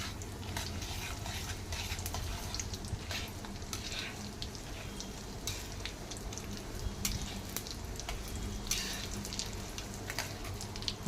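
Mustard seeds and cumin fry in hot oil for a tempering, giving a steady close sizzle dotted with small crackling pops throughout.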